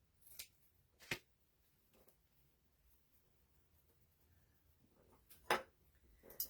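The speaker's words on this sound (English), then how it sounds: "I'm going to cut this into a tag shape." Scissors snip through fabric stiffened with coffee and Mod Podge to shape a craft tag, a few sharp isolated cuts spaced irregularly in a quiet room.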